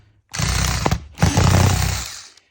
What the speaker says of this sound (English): to speed things up, I got my drill with a Phillips head bit